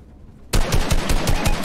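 Rapid automatic gunfire in Fortnite, a loud sudden burst of evenly spaced shots that keeps rattling steadily after a quiet start.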